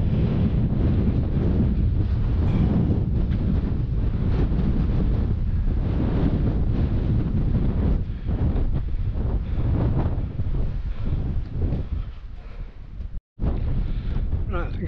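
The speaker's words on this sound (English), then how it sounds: "Hope it's killed some of the wind noise, but I doubt it. It's so windy." Strong wind buffets microphones fitted with wind jammers on an exposed crag at Almscliffe, producing a constant loud low rumble with gusty fluctuations for the whole stretch.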